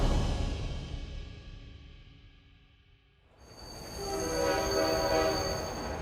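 A China-Europe Railway Express train, on the route through Xinjiang and Inner Mongolia toward Europe, gives a steady, loud horn blast over a rumbling background. A quieter rolling rumble fades down before the horn comes in about halfway through.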